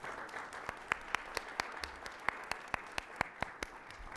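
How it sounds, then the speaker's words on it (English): A forum audience at the Columbus Metropolitan Club applauds partners and sponsors, heard as sparse, fairly faint hand claps at a quick steady pace rather than a full roaring ovation. "I'd love to give all of our partners and sponsors a round of applause."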